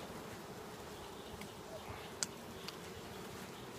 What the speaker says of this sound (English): Wow, a lot of bees on the bottom there.